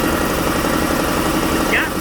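A Dodge D150 pickup's slant-six engine idles close by with a steady, even low rumble and vibration, and a brief higher noise near the end.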